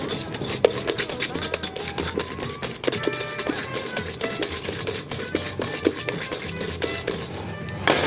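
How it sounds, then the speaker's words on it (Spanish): Oil batter whisked by hand in a bowl, a steady scraping, rasping stir with quick repeated strokes, close and loud throughout. "Y lo seguimos batiendo"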